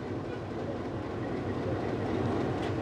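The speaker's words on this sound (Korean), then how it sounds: "이곳 포로이역에서 페루레일 하이럼 빙엄이란 열차가 마추픽추로 출발한다." A PeruRail train to Machu Picchu rolls along the tracks at Poroy station near Cusco, Peru, with a steady low rumble and faint clickety-clack, close and continuous, with no voices.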